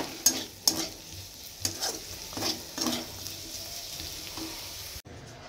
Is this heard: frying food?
yes